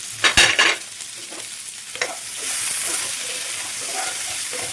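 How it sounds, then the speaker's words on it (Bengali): Potatoes frying in oil with salt, a steady sizzle that grows fuller partway through, with a few sharp clatters and stirring scrapes near the start. "এখানে আমি লবণটা দিয়ে ভাজবো"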